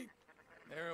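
A sheep bleats close by in a short burst, a quavering, harmonic cry that swells loud near the end after a quieter, breathy stretch.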